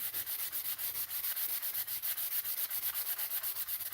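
Steady back-and-forth sanding of wood raising fine sawdust, a rhythmic rasping hiss with regular strokes roughly every quarter second, close and fairly quiet, with no talking.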